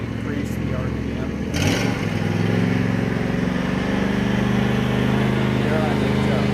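A John Deere E120 lawn tractor's engine roars steadily at full throttle, a loud continuous drone with a brief surge near the start, while someone talks over it.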